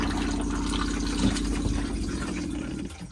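Water flushing through the bowl of a cassette toilet in a Swift Select 164 motorhome, a steady rushing wash that runs for about three seconds before cutting off.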